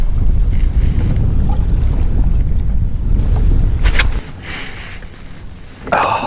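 Strong wind blows across an estuary while fishing, rumbling loudly against the microphone with a steady low roar and a few gusty swells near the end.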